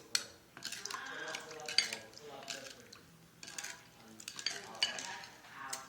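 A spoon stirs sweet and sour sauce for egg rolls in a pot, soft irregular scraping and light clinks in bursts, fairly quiet.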